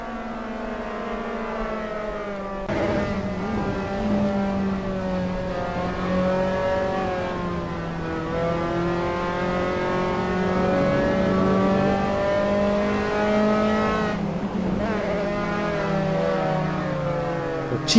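Race car engines in Assetto Corsa on the Mistral straight at Paul Ricard, a loud sustained high-revving drone with climbing pitch and upshifts, several cars close together, no talking.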